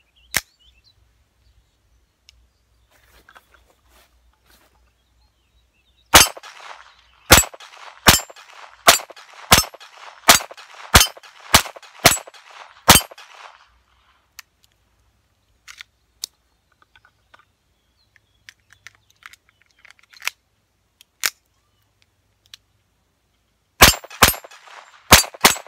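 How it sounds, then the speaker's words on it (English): A Ruger Mark III 22/45 .22 pistol fires at steel plates outdoors: a rapid string of about ten sharp shots, each answered by a ringing metallic clang, then a few more quick shots after a quiet pause. "Let me load up a couple more mags and we'll shoot again."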